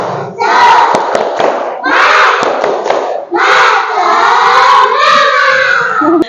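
A fourth-grade class of schoolchildren in an Indonesian classroom does a group spirit clap, chanting and shouting together loudly in three long bursts with brief pauses between them, with a few sharp claps mixed into the voices.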